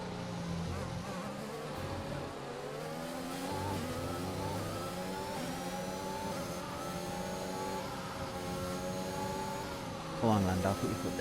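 A Formula 1 car engine in the F1 2021 racing game, on the Imola circuit, whines steadily at high revs, its pitch climbing in long sweeps through gear changes, with a brief burst of extra noise near the end.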